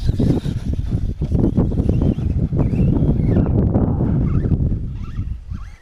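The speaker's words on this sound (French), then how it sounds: "il y a vachement de vent encore" Strong wind buffets the microphone in loud, continuous gusts at an outdoor RC buggy session at La Londe, with a motor whine rising faintly near the end; no speech.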